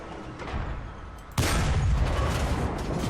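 A tank cannon blast from the Sd.Kfz. 234/2 Puma armoured car in War Thunder cracks loudly once midway, then a sustained roar of gunfire and battle noise follows, rising over a quieter rumbling lead-in, with no talking.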